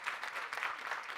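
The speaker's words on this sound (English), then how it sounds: "I just want to thank him and give him a round of applause" An audience at a school board event gives steady applause for a board member, a dense soft wash of many hands clapping at moderate distance, brief and continuous.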